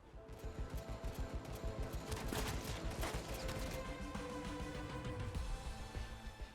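Rapid bursts of gunfire crackle repeatedly in quick rhythmic volleys, fairly quiet and distant, with no speech.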